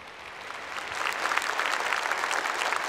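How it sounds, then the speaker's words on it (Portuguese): Applause in a church congregation during a Mass, soft at first then swelling into sustained, fairly distant clapping from many people. "uma salva de palmas"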